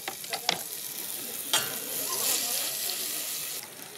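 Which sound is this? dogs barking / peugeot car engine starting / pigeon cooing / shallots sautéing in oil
shallots sautéing in oil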